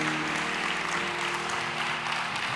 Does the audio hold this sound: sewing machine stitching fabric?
no